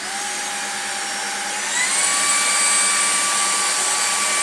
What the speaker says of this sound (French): À partir du moment où on baisse l'aspirateur, il avance tout seul.